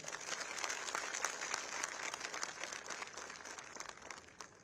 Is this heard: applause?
yes